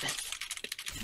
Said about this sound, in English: This is the sound of Zarla excitedly typing.